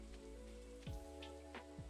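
Steady rain patters in Stardew Valley, a soft continuous hiss under a sustained musical drone, with a few brief swooping tones passing over it.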